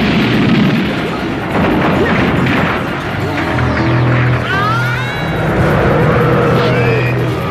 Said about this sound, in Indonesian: serangan laser tersebut malah berbalik ke dalam tubuh Super Buu dan meledak di dalam tubuhnya.